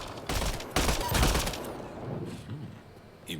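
Heavy gunshots from a sniper fight in Mass Effect Andromeda, several loud cracks and echoing blasts in the first second and a half, fading into quieter rumble with a faint voice and a small sharp sound at the end.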